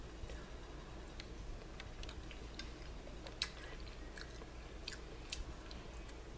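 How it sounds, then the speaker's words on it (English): Someone eats spicy tortilla soup from a microwavable bag, Campbell's, with cayenne pepper, giving faint, close chewing and small clicks over a steady low background hum. "I have a bowl of tortilla soup that I'm going to be eating"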